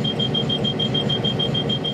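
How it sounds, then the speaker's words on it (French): A train cab vigilance alarm beeps in a fast, even series of high pulses over a loud, rumbling cab background. "à moins d'une attention constante, une alarme se déclenche qui peut entraîner jusqu'à l'arrêt du convoi"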